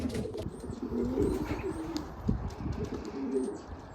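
Racing pigeons coo in low, soft, repeated murmurs, close by in a loft, over a steady rumbling background with faint higher chirps scattered through.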